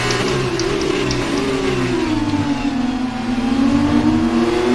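Formula 2 race cars at Bahrain in a racing video game accelerate hard, a steady loud engine whine rising and falling in pitch as cars battle and overtake, continuous with no talk.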